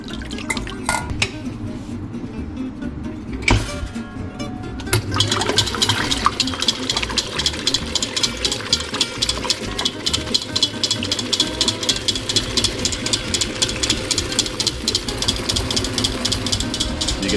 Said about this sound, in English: Egg whites straight into the mixer.